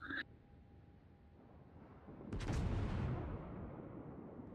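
Naval shells land near a warship in a battleship game, a distant heavy boom splashing into a rumbling roar that slowly fades, after quiet ambient hum.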